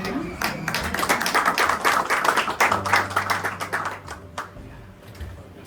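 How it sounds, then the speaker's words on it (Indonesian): A church congregation claps at a Passover Sunday service in a burst of lively, dense applause that thins out toward the end, with voices talking over it. "Kita berikan tepuk tangan buat Tuhan Yesus."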